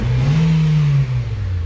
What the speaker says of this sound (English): Car is running good.